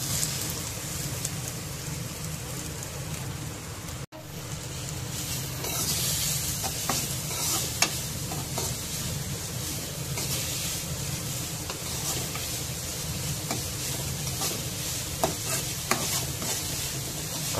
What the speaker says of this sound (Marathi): कांदा घेऊया भाजून चांगल्यापैकी,